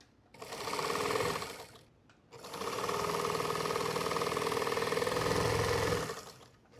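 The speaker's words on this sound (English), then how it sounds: "now let's serge it" A serger overlocks the edge of fabric from upcycled pants in two close, steady runs of fast mechanical whirring, a brief burst, a short stop, then a longer continuous stretch.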